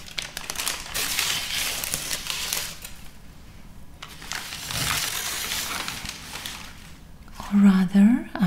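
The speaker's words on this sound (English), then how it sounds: "I will fold this towel and wrap it in this crinkly paper this time." Crinkly paper rustles and crackles in bursts as a folded towel is wrapped in it, with soft talk in between and a sharper crinkling flurry near the end.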